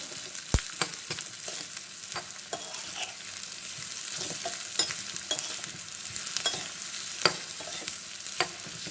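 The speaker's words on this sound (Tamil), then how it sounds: "வெங்காயம் நல்லா வதக்கி போடணுங்க. நல்லா வறுக்கணும்." Onions fry in a pan for mutton chops, a steady crackling sizzle under frequent scraping and clinking of a spoon as they are stirred, close and with no voices.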